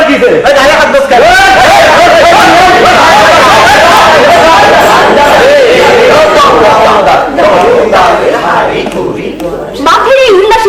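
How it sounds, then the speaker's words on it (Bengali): A joyful crowd at a village fair shouts and chatters loudly, with overlapping cheers, laughter and voices rising and falling almost nonstop at close range. "মাঠের এই উল্লাসী চিৎকার ধ্বনি ও খণ্ড বিখণ্ড হাস্য কৌতুক জাহিদুল ও জয়ফুলের কানে গিয়ে পৌঁছে"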